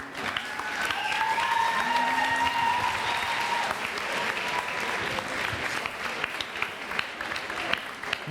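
Steady applause from an audience at a school class choir festival, dense clapping lasting throughout, with faint crowd murmur and a few tonal traces beneath.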